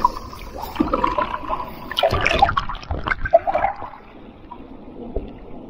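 Atlantic Ocean waves surge and crash nearby, a broad rushing wash that swells to a loud peak midway and then recedes into churning, trickling water.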